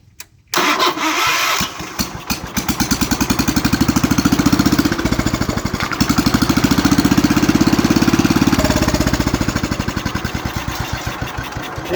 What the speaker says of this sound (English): Let's just see if it will fire back up on its own.